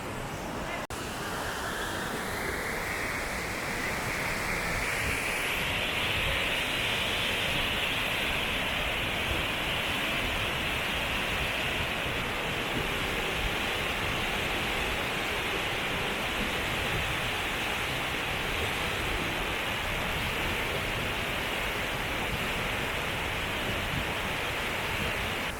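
The Kheerganga waterfall near Kullu rushes with a loud, steady roar of broadband water noise that swells slightly after the start and then holds constant and close throughout.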